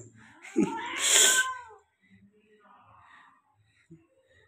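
A cat in heat caterwauls during mating with one long, loud, rising and falling wail, followed by faint low murmurs and a quiet voice.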